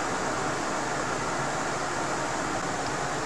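A test fan runs steadily, a constant broadband whoosh with a low hum, captured by an AVerMedia Live Streamer CAM 313 microphone, uniform in level with no other sounds.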